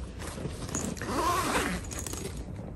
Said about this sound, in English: there is an opening on the top, zipper close